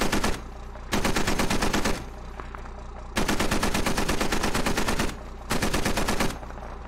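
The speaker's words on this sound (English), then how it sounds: "There's a lot more fire going on over here." Automatic gunfire in the video game Squad comes in three long, loud, rapid bursts separated by short pauses, close and dense, with no talk.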